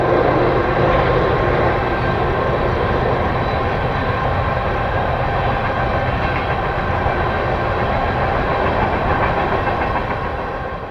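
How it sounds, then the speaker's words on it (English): A westbound freight train rolls steadily past in a broad semi-arid valley on the Sand Hills Subdivision, a loud continuous rumble of wagons and wheels with a faint clickety-clack, easing slightly at the end. "East of Bingham, a westbound passes through a broad valley and past the crossover at milepost"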